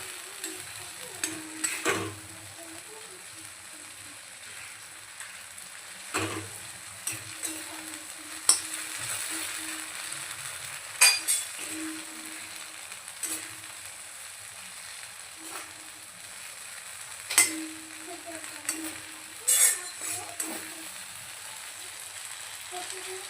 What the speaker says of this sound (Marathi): मसाला छान आपल्याला वांग्याशी परतून द्यायचे